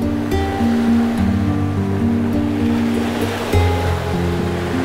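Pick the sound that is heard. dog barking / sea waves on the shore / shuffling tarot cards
sea waves on the shore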